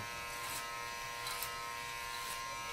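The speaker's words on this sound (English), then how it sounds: "I'll clip it over comb to remove this weight line right here" Electric hair clipper cutting hair over a comb during a skin fade haircut, a steady faint buzz with a few brief swells as the blade passes through hair.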